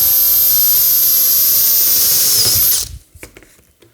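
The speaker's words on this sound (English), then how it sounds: "So let's get those 2 drilled and riveted." A power drill whines loudly and steadily while boring rivet holes during a launcher front assembly, then stops abruptly, leaving a few faint clicks and handling noises.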